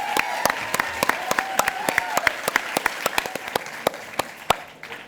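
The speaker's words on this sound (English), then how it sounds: "we're going to just applaud you uproariously" An audience applauds actor Tyson Palmer at a film conversation event: dense, steady clapping from many hands at moderate distance, holding for several seconds and then tapering off at the end.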